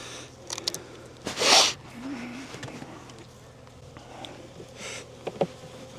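Honeybees buzz around an opened insulated hive during a spring inspection, a faint steady drone with brief louder passes close by and some handling sounds of frames.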